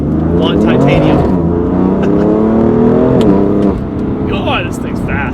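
BMW F80 fitted with a stainless steel exhaust, revving and accelerating with a loud, sustained rising roar, then a brief drop at a shift before pulling again, close by.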